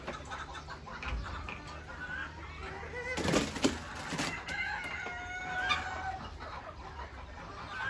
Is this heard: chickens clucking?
yes